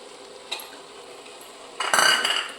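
Carrot halwa with cashews, raisins and almonds gets stirred in a pan: a faint tap, a quiet pause, then a louder scraping burst of the spoon against the metal near the end.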